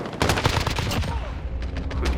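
Gunfire in Call of Duty Modern Warfare Warzone, a quick burst of rapid shots at the start followed by scattered louder cracks and echoing reports, all fairly close and loud.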